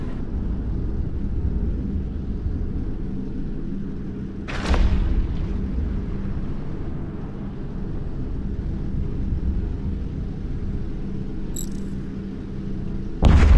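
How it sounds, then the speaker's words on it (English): Tier 10 battleships blowing up in a space combat game, with a low continuous rumble throughout and two sharper booming bursts, one early and one near the end. "always fun to see these tier 10 battleships blown up"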